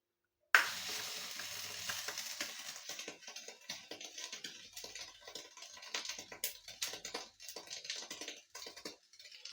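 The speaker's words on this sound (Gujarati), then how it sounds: "હવે આપણે ગરમ ગરમ વઘારને સેન્ડવીચ ઢોકળા ઉપર એડ કરીશું" Hot tempering poured over lasaniya sandwich dhokla sizzles and crackles steadily from start to finish, a close, bright hiss with scattered pops and spatters, no voices.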